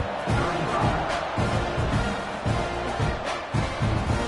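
A football stadium crowd before kickoff produces a broad, steady roar of murmur and scattered shouting, heard at a distance with a commentator talking over it.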